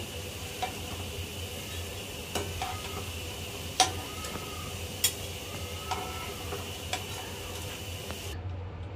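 Jackfruit seed pakoras frying in hot oil, a steady soft sizzle throughout with occasional light clicks and taps of a utensil against the pan.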